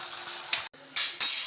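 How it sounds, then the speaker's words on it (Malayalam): Vegetable pieces sauté with turmeric powder in a pan for a Kerala theeyal curry, giving a steady close sizzle with scraping stirs, a brief cutoff midway, and louder bursts of frying near the end. "നമുക്ക് ആ കഷ്ണം വഴറ്റാൻ വെച്ചതിനകത്ത് കുറച്ച് മഞ്ഞൾപ്പൊടിയോട് ചേർത്ത് കൊടുക്കാം"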